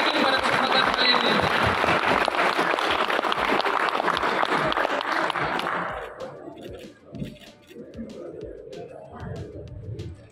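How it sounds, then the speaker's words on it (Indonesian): An audience at an Indonesian political forum applauds the panelists in loud, dense clapping that fades out after about six seconds, leaving scattered room noise and a few murmurs. "saya mau minta sedikit apa boleh kita tepuk tangan bersama untuk seluruh panelis yang hadir pada kesempatan kali ini."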